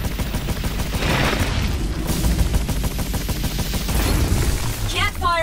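Weapons firing in the VR shooter Scavengers Odyssey, a steady dense barrage of loud bursts with booming low end running throughout, sustained and close, with an electronic whir near the end.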